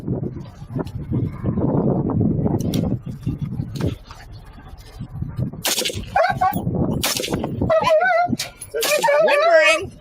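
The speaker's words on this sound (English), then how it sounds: "Whimpering." A dog whimpers in high, wavering cries during a police standoff, after a stretch of shouting, with loud bangs and people's voices mixed in around it.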